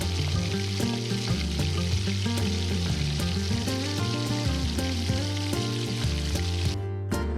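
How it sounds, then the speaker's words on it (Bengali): Continuous crackling sizzle of chicken pieces frying in hot oil, with sharp pops scattered throughout over a steady tonal hum. "তেলটি গরম হলে আস্তে আস্তে মাংসগুলো ছেড়ে নিব আমি"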